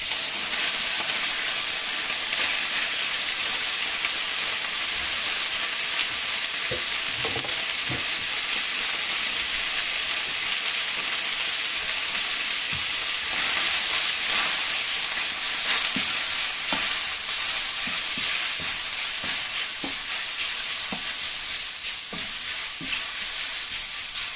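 Chicken stir-frying in a very hot pan for egg fried rice makes a constant loud sizzle and hiss, with scattered scraping and clattering stirs of the spatula throughout, no speech.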